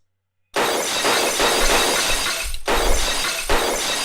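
A glass table smashes into pieces with a sudden loud crash that becomes a long, dense spray of shattering and tinkling shards lasting several seconds, close up with no talk.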